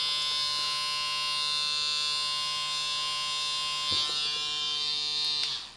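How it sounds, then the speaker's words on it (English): A Neebol wireless tattoo machine runs with a steady, high-pitched electric buzz and whine, close and constant, ending abruptly with a small click as it is switched off. "So you can use this Neebol tattoo wireless kit by just pressing the button, one hand."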